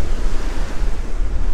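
Strong wind buffets the microphone at a beach near Sydney while surf rolls in, a loud, close, continuous roar with gusty rumble and no talk.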